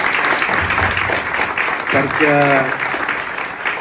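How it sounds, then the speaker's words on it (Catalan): Loud, sustained applause from a crowd at a solidarity event for flood victims, filling the room steadily while a voice briefly speaks over it. "Fort aplaudiment també per ell"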